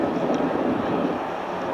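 A Roulettes PC-9 aircraft flies past at the Avalon airshow, giving a broad, steady airy engine roar that holds for the whole brief moment, with some wind noise on the microphone.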